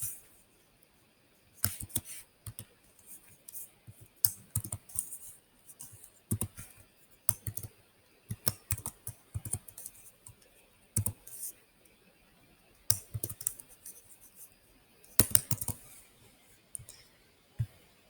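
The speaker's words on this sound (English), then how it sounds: "So I'm just gonna type that in here." Someone types on a computer keyboard in irregular bursts of close, crisp key clicks with short pauses between runs.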